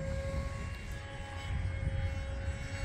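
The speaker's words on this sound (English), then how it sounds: "Going full throttle, giving it plenty of power because of it being a pusher prop." A HobbyZone AeroScout RC pusher-prop trainer airplane flying at full throttle, a steady high electric motor whine with a propeller drone, continuous and fairly close, no talking.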